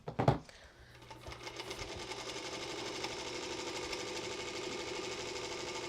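A Singer Featherweight sewing machine stitches a jelly roll quilt, starting with a few clunks and then settling into a fast, steady mechanical whirring hum that runs on close and unbroken.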